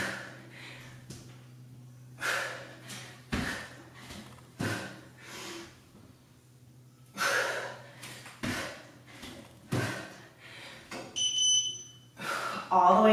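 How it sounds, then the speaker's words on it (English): Several short electronic workout timer beeps sound near the end of a Tabata interval, while a person speaks and breathes hard between exercises. "All the way to the beep."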